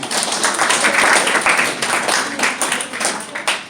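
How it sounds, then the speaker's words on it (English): Applause from high school students in an audience, a loud burst of mixed clapping that swells and then thins into scattered claps. "Let's give a round of applause"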